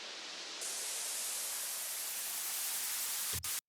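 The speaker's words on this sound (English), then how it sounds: "I've got this build up here, which is just consisting of a white noise riser" White noise riser from a standard sample pack building up in a dance music remix: a sustained broadband hiss that fills out and swells, then cuts off abruptly near the end.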